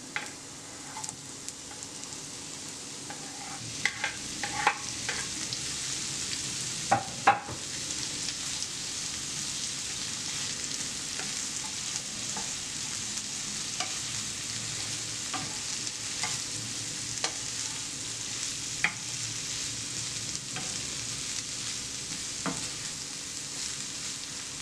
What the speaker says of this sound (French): Alors on fait revenir un petit peu les légumes